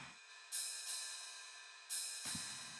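Two pairs of bright, shimmering metallic ride cymbal hits ring out over a thin hiss. Each hit washes and then fades quietly.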